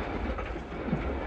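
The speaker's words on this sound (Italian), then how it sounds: "Ma il treno sta rallentando." A train rolls on its rails as it slows near Bergerac, giving a dense, continuous rumble with a soft clattering texture heard close by.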